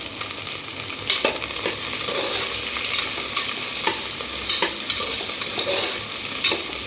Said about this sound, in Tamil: அப்புறம் கேரட் சேர்த்துக்க போகிறோம். இப்போ நல்லா மிக்ஸ் பண்ணிவிடுங்க.